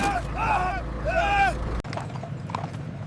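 Horse hooves clip-clop in a German army horse-drawn transport column, with mechanical rattling and creaking along the way; the sound breaks off suddenly and continues more quietly.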